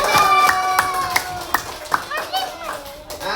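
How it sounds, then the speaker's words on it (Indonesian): Children in a classroom clap in a short burst of scattered, uneven claps for a classmate, with a child's singing-like voice and classroom chatter running underneath. "Tepuk tangan buat temennya."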